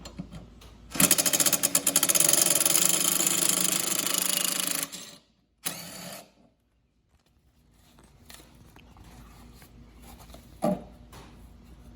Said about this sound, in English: So you have your impact and you take off this blade.